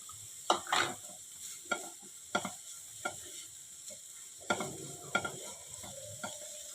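Spices being stirred into frying food in a pan during home cooking, a close scraping stir repeating in short irregular strokes over a soft sizzle, with no talking.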